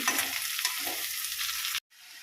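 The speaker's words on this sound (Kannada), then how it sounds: "ಇದು ಫ್ರೈ ಮಾಡಬೇಕು ಎಣ್ಣೆಲೆ ಚೆನ್ನಾಗಿ ಫ್ರೈ ಆಗಬೇಕಿದೆ" Food fries in hot oil with a loud, dense crackling sizzle that cuts out abruptly near the end, then resumes more quietly; no one talks.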